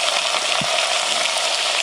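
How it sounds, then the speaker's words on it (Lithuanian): Chicken hearts with garlic fry in a pot with a steady, even sizzle that lasts a moment. "Ir pamaišysime, kad jos šiek tiek lengvai apskrustų."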